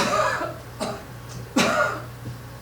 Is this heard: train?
no